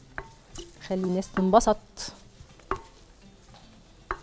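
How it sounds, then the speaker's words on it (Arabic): Flour browning with onion in ghee, stirred in a pan: soft sizzling under scraping and clinking of a spoon against the pot, with someone speaking briefly over it. "الدقيق بس يتحمر كده مع البصل"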